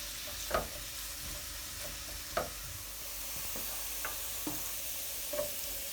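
Soy sauce goes into stir-fried noodles in a hot pan, which keep up a soft, continuous sizzle broken by a few scattered clacks and scrapes of stirring.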